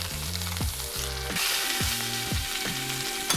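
Two stacked tortillas browning in a hot pan for chicken tacos give a steady, close sizzle, with a few sharp spatula scrapes and taps breaking through it.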